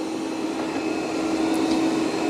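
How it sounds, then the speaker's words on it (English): A Roomba 105 robot vacuum running over carpet, a steady whirring motor hum with a constant tonal whine, close and continuous, no speech. "let's see how the Roomba 105 is going to vacuum up this carpet"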